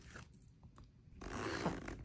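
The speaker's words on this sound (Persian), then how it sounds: "اینم زیپش رو بستم" Zipper being pulled closed on an inflatable air compressor massage boot, a short soft ratcheting rasp that rises and then holds for about a second, close and fairly quiet.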